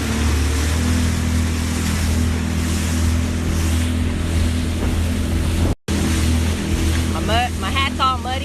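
A Sea-Doo Spark personal watercraft riding on open water, a steady engine drone mixed with wind and splashing spray, loud and close with one brief dropout, and a voice briefly heard near the end.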